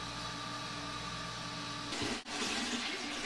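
Steady rush of hot water flowing during sparging of a pilsner beer mash in home brewing, a continuous close hiss that swells louder partway through with a brief dip.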